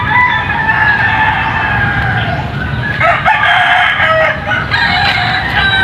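Roosters crow repeatedly over steady farmyard clucking, the calls loud and close with several birds overlapping.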